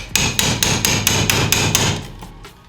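Repeated sharp metallic hammer taps drive a shifter pin out using a 10 mm socket as a drift, about eight evenly spaced blows, close and loud, before the sound fades.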